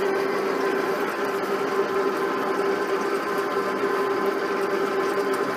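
A roll grooving machine cuts a groove into a pipe, producing a steady, unbroken mechanical whir with a constant humming tone and no pauses.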